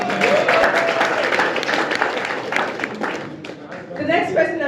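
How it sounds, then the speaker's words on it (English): An audience applauds at the Google Sub-Sahara Africa Community Summit 2023 in Kigali, Rwanda, a dense sustained round of clapping mixed with crowd noise and voices. "So please another round of applause."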